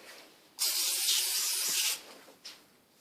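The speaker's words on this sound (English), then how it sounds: "spray your hands so they don't stick" A single sustained hiss of an aerosol cooking spray onto hands lasting over a second, followed by a short faint puff, in an otherwise quiet room.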